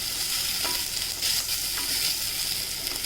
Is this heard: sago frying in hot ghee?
yes